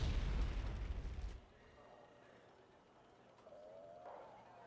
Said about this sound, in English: Oh, AKVs are getting shelled.